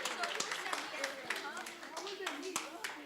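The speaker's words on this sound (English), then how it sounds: "a big round of applause for the teachers, Radharani Mataji and Naval Kishori Mataji" A crowd at a New Year 2025 Pushpabhisheka celebration gives a round of applause for the teachers, with steady mid-distance clapping running throughout and voices murmuring underneath.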